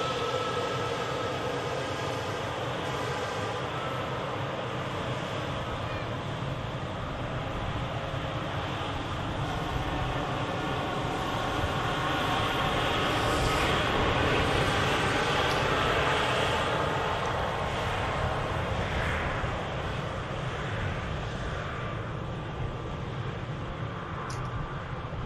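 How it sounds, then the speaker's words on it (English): A Lufthansa airliner from Munich landing at Manchester Airport heard as a broad, steady distant roar that swells slightly in the middle and then holds, with no talking. "And Lufthansa next to landing from Munich."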